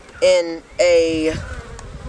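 Bees buzzing around an opened beehive while brood frames are lifted, two loud close buzzy bursts as individual bees pass near, over a faint background hum.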